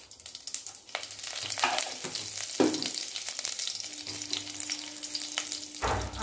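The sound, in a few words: cumin, mustard seeds and curry leaves sizzling in hot oil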